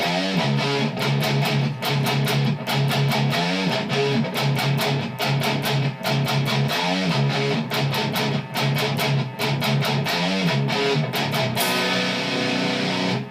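A distorted electric guitar plays a rhythmic riff with sharp, repeated palm-muted chugs and held notes, loud and alone, ending on a sustained chord.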